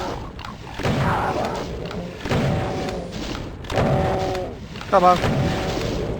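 Doom 2 shotgun blasts go off as heavy, punchy booms at steady intervals of about a second and a half, each with a ringing pump-action tail, close and loud. A player mutters briefly between shots.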